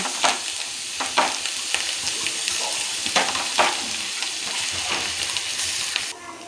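Chicken frying in a pan with curry leaves and coriander added, a steady broadband sizzle with several sharp stirring scrapes and clatters throughout, close and fairly loud, no talking.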